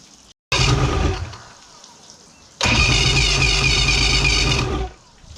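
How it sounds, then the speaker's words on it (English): A 1985 Mercury outboard engine is restarted: a short cranking burst fires into a loud, buzzing run, dips briefly, then roars steadily again before cutting off, close and loud with no talking. "You can see it choke the engine off, so I'm just going to fire it back up."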